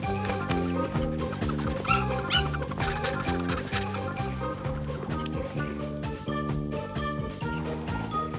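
A cartoon dog barks and whimpers in an animated children's show, with yips and whines mixed under a constant bouncy music score.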